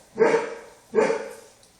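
Norwegian Elkhound barking indoors, two sharp, fairly loud barks about a second apart, clear and close with nothing else heard.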